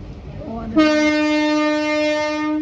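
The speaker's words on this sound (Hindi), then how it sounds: "फाटक पे फंस गए हैं। ट्रेन आ रही है" A train sounds a loud, sustained horn blast while approaching a railway level crossing near Rajgarh, a steady tone holding for a couple of seconds over low rumbling and faint background voices.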